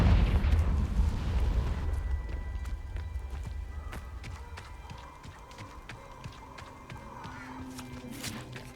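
A Confringo fire spell bursts in Hogwarts Legacy with a heavy, rumbling boom at the start, then fades into a low crackling tail with scattered clicks and faint game ambience.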